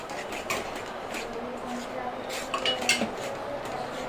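Spoon stirring coriander-cumin powder through gravy in a metal pan, with light scraping and clinking contacts scattered steadily throughout, a few sharper knocks near the end.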